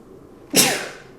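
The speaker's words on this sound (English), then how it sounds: "We don't need sneezing" A single sharp sneeze, close and loud, bursting out of near silence and trailing off quickly.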